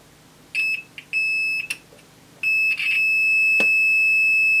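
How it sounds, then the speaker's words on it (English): Shrill electronic beeps from a multimeter's continuity tester checking for shorts in a Datron 4700 calibrator, several short chirps followed by a long sustained tone, loud and close. "it's going to beep if it's a short"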